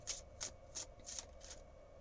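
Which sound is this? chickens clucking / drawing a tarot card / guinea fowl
drawing a tarot card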